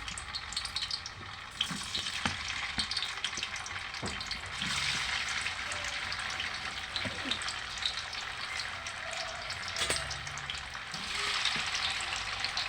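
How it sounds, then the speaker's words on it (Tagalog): Steady sizzling of tofu frying in a pan, a continuous crackling hiss with occasional soft clinks and pops, no talking. "magluluto muna tayo guys at magpiprito ng ating tofu"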